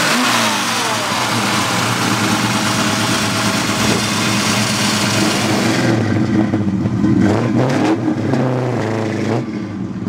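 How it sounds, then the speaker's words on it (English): A 1969 Ford Mustang Convertible engine runs loud and close, a steady throaty rumble with rising revs that shifts to lower, uneven idling after a few seconds. "Alright, let's take this Mustang for a ride."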